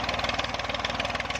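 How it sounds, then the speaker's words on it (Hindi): A tractor engine drives a water pump irrigating fields in rural Punjab, Pakistan, where there is no electricity. It makes a close, loud, steady chugging with an even rapid pulse and no talking. "ये जी ट्रैक्टर की मदद से पानी निकाला जा रहा है।"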